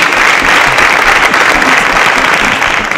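A studio audience at a televised student science quiz show claps for the contestants in a loud, dense burst that holds steady and tapers slightly at the end.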